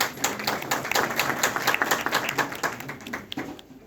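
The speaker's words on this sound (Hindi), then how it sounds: "एक बार जोरदार तालियां उनके लिए।" An audience at a labour resources department event claps together, a quick patter of many hands that builds and then thins out over a few seconds.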